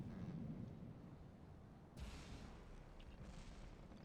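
Heavy cannon fire at a ship in the naval combat game From the Depths, deep booming blasts under a rumbling roar, with one sharp loud report partway through, distant and reverberant.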